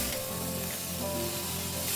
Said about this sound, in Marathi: आता हे गाजर आपण तुपावर परतून घेऊया